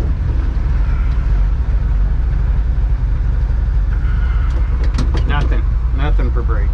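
A 1959 Chevy Apache Napco 4x4 truck engine drones steadily and loudly while the truck is driven with no brakes, a constant low rumble with a voice talking over it near the end.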